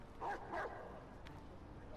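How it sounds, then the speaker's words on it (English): Two quick barks from a dog in the video game Watch Dogs 2, close and loud within the first second, followed by a faint, low background. "No one's barking, that's a dog."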